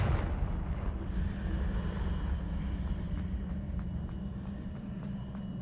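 A Confringo spell explodes in Hogwarts Legacy, a heavy booming blast that opens loudly and then rumbles away into a long, fading roar.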